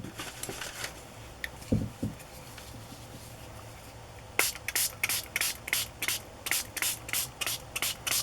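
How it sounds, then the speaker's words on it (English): Spray bottle misting colour onto a handmade craft tag, about eight quick sharp hissing bursts in a steady rhythm, close and fairly loud, after a few soft handling taps. "Let's see what happens when we spray."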